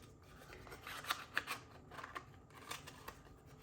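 Paper is scored along box score lines for a Paper Pumpkin Spooky Treats kit, giving a few soft close scraping strokes in a quiet room.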